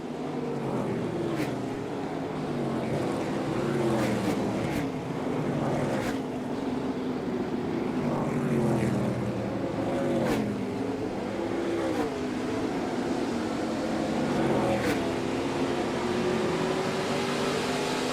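Onboard sound from the number 30 race car in a 2022 ARCA Menards Series race at the Milwaukee Mile. The engine drones steadily, its pitch rising and falling through repeated gear changes, with no talking.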